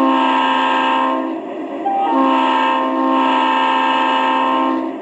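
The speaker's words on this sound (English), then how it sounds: "Is a crossing whistle." Model train's electronic crossing whistle from a 2.4 GHz remote control sound system, sounding a long blast, a brief pause, then another sustained blast, clear and steady at close range.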